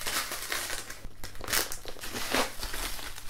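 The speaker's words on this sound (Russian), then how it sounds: "Поэтому давайте ее быстренько распакуем, а поможет в этом мистер Ножик." Cardboard packaging of a Flight ukulele box being cut open with a knife, giving continuous close crinkling and crunching with scraping bursts.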